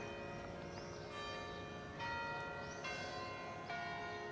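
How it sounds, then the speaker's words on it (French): Church bells ring across Braga in Portugal, several overlapping strikes with long shimmering tones that sustain and layer at a moderate distance, with no voices. "Ce qui se confirme toutes les heures lorsque le tintement des cloches des églises se déclenche"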